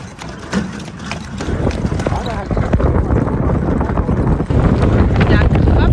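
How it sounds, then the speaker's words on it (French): Hooves of a horse pulling a carriage clip-clop near the Cairo pyramids, close and steady. Gusty wind buffets the microphone and a voice talks over it. "Donc là, on va prendre la calèche."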